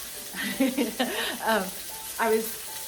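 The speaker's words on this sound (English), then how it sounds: "You can listen to it sizzle" Tomatoes sizzle in a pan with about a tablespoon of olive oil, a soft steady hiss running beneath a voice that talks throughout.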